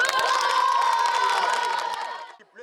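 Students cheering and applauding at a school, a loud crowd roar of shouts and whoops with clapping underneath, sustained before fading out near the end.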